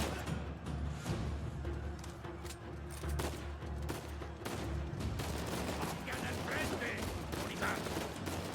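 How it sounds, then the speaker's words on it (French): Gunfire in the video game Uncharted 4: rapid bursts of shots cracking in quick clusters, fairly faint in the mix, with a voice talking over parts of the action. "Il y a deux personnes qui lui tirent dessus,"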